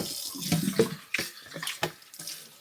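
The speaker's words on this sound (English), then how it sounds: "So right now, give them the initial rinse that they need." Greens rinsed under a running kitchen tap, a soft uneven splashing of water over leaves for a few seconds, close and fairly quiet, with no talking.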